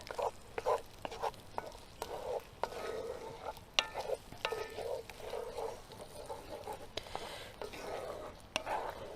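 Curry simmering in a pan while being stirred, cooked over a camp stove inside a hot tent: scraping, clinking stirs and soft bubbling come in irregular bursts, close and moderately quiet, with no talking.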